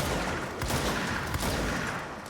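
Dense, continuous gunfire from a firefight in the video game Control, a loud unbroken wash of shots with no clear gaps over a couple of seconds.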